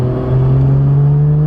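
A 450 hp 1JZ-powered Toyota Chaser JZX100 on the street, its engine holding a loud, close, steady droning note with a smooth, slightly rising pitch, heard alone without voices.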